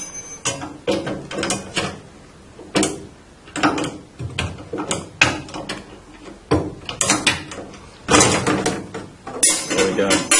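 Blade and brake cartridge being removed from a SawStop table saw, heard as close, fairly loud metallic clunks, scrapes and ratcheting clicks in uneven bursts, with no talk.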